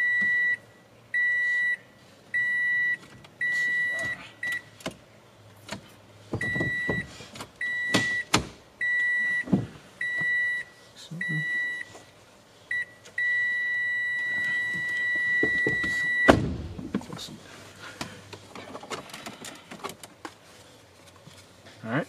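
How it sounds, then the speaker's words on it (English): A 2017 Toyota Sienna is switched on and sounds a series of evenly repeating electronic chime beeps inside the cabin, followed by clicks, handling thumps and a low idle hum. "So for that, I have to turn on the car."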